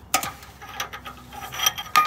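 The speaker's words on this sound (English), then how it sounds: "Then you'll get your 3/8 ratchet, put it into the socket, and I'll throw a cheater bar on here just to save myself some effort." A 3/8 ratchet fitted with a cheater bar works a bolt loose under a car during a check engine light repair, giving a few close, sharp metallic clicks and clunks spread over a couple of seconds.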